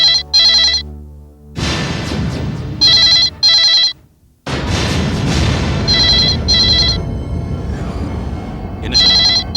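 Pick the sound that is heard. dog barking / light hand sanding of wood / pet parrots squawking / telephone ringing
telephone ringing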